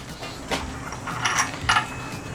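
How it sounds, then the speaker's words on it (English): Ratchet wrench torquing a bolt to 85 foot-pounds during assembly of an R53 Mini Cooper S W11 engine, heard as a few quick metallic clicks and ratcheting bursts close by over a low background, with no talking. "that's why it's not spinning when I torque it down here"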